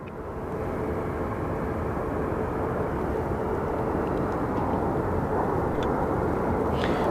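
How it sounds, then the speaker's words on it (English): A Southwest airliner on the runway at Phoenix Sky Harbor Airport gives a loud, continuous broadband jet roar that holds steady throughout, with no talking. "Southwest 930 from LAX is going on my favorite runway"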